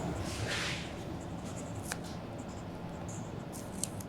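A Sailor gold fountain pen nib writes on paper, a faint continuous scratchy rustle under a soft background hiss.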